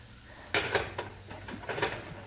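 Vegetables for an omelet are tossed in a frying pan, giving a few close metallic clanks and scrapes of the pan over a steady low sizzle.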